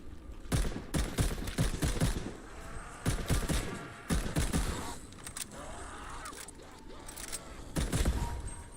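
Rapid bursts of automatic gunfire from a Call of Duty Vanguard Zombies match, several loud volleys broken by short pauses, with mechanical clicks and clatter in between.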